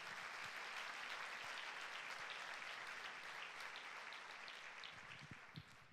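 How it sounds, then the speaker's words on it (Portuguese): A church congregation at a Sunday service applauds, a sustained wash of clapping from many hands that gradually thins toward the end, heard from a distance. "Pode dar um aplauso ao Senhor."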